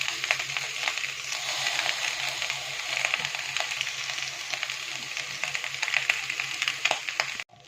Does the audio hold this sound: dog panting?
no